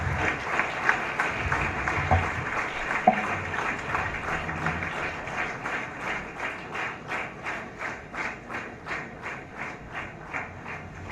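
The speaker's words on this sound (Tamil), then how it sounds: "பலத்த கைத்தட்டலோடு மேடைக்கு அழைக்கின்றோம்" A stage event audience welcoming a guest with loud, sustained applause, many hands clapping densely at first and then settling into a rhythmic, steady clap that slowly fades.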